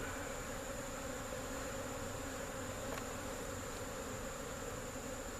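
Honeybees droning around an opened hive during beekeeping work on a laying worker colony, a steady, even buzzing hum that fills the space, close and continuous with no voices.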